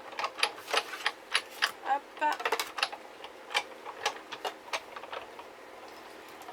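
Rapid, uneven clicking and ticking come from a manual die-cutting machine as paper passes through, cutting small animal embellishments. A brief voice cuts in partway through.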